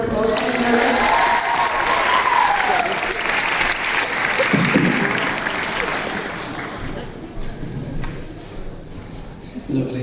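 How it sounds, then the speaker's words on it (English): An audience applauds at the Epstein Theatre during a live stage show, a dense wash of clapping that slowly tapers off, with voices heard around it toward the end. "Give them a round of applause."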